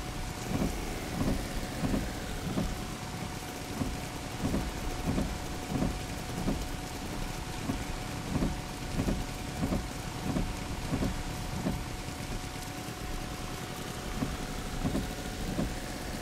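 Steady heavy rain drums inside the car in the driving game Jalopy on a stormy Yugoslavian road, with low thunder rumbling underneath and a faint engine hum, continuous and fairly loud throughout.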